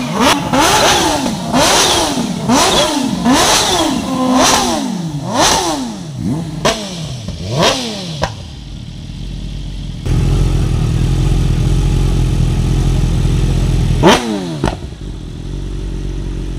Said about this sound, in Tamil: ஃபுல்லாக அந்த சவுண்டை வந்து த்ராட்லிங் பண்ணி அழுத்தி காமிச்சிட்டு இருந்தாங்க அவங்க ஓனர்ஸ்